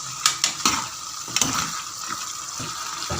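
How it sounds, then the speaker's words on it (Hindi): Turnip and meat fry in ghee in a pot for shaljam gosht, with a soft sizzle under a few sharp clinks and scrapes of a spoon against the pot early on. "अब घी के साथ इसको 10 मिनट तक भूनेंगे।"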